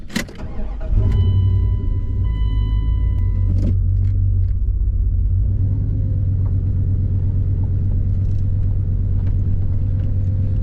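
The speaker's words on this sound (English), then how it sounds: "we'll go and see how it is to drive a sloppy old second gen Dodge" Old second-generation Dodge pickup truck starting up and driving, a loud deep steady engine rumble after a brief clatter at the start, with a few mechanical clicks and tones early on.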